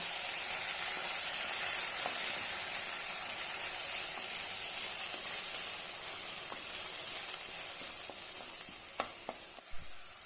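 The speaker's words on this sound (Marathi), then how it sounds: "एक टोमॅटोची पेस्ट करून घेतलेली आहे ती घालूया छानपैकी परतून घेऊया" Tomato paste sizzles and fries in a pan for a potato curry, a steady close hiss with occasional small pops and stirring sounds, with no voices.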